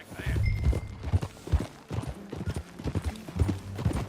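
Horse hooves clip-clop at a walking pace in the Red Dead Redemption 2 video game, close and rhythmic, with an occasional snort or whinny alongside.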